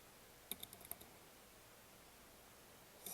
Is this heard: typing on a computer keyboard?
yes